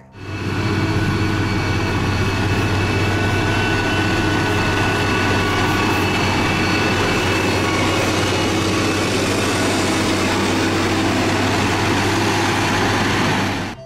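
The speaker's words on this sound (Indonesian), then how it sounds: "di sini ada motor grader buat menghaluskan jalan" A motor grader's heavy diesel engine runs steadily and loudly nearby, a constant low droning hum with no change in pitch for the whole stretch.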